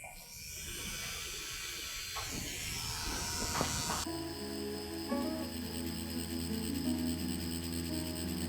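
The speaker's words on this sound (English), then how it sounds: "the tattoo machine has vibration and noise." A Dragonhawk Atom M8 tattoo machine, a beginner kit pen-style rotary unit, hums with a steady electric buzz, close and fairly loud, holding a constant whine with slight vibration throughout and no one speaking.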